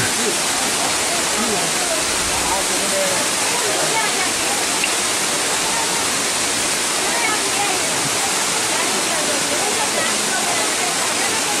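Bhagsu Waterfall near McLeod Ganj, India, roaring as a dense, constant rush of falling water, loud and close, filling the scene without a break; faint voices may sit beneath the roar.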